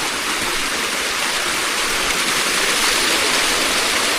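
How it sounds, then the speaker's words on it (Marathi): Heavy monsoon rain pours steadily during a trek to Tung fort, a dense, loud, unbroken hiss with no pauses and no voices. "पाऊस भरपूर चालू आहे."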